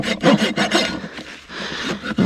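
A farrier's rasp files the inside edge of a mustang's hoof during trimming, putting a bevel on it in steady back-and-forth rough scraping strokes, close and loud, with no talking.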